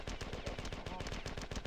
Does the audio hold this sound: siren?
no